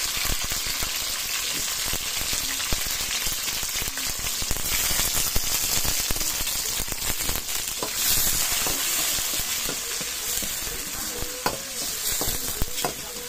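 Mussels sauté with tomatoes in a hot pan, a steady loud sizzle broken by scraping, clacking stirs throughout, close and continuous with no talking.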